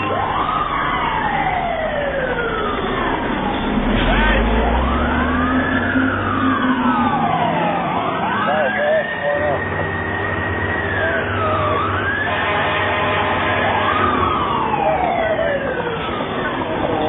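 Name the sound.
fire engine siren responding to alarm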